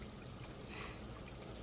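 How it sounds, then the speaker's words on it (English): A quiet, steady pour of meat stock into a pot of cabbage, a soft continuous splashing trickle with no voices. "we're just going to add the water from the meat in here and then allow it to cook"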